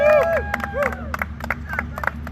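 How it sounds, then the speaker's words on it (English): A crowd at a TNT Points Event 17 race night claps and cheers for a runner, with scattered hand claps under high whoops and whistle-like voices, fairly close and lively. "Let's have a round of applause for John Root"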